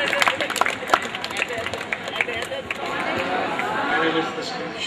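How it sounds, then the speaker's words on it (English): An audience claps loudly and steadily for a guest speaker at an outdoor plantation campaign event. The dense applause runs the whole time and swells slightly toward the end. "please give him a very loud clap"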